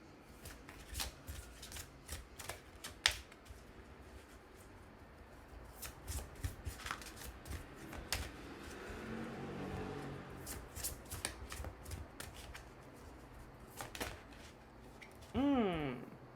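Tarot cards shuffled by hand, a run of crisp riffles and soft slaps spread over several seconds, close and fairly quiet, with a brief voice near the end.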